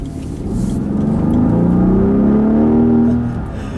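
A 2014 Rolls-Royce Wraith's engine accelerates steadily, its low hum rising in pitch for a couple of seconds before easing off, with a continuous loud, close rumble.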